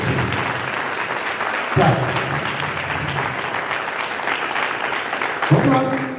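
A church congregation at a doctrine service claps in sustained, dense applause that runs throughout, with a short spoken word and brief voice bursts cutting in near the start and end.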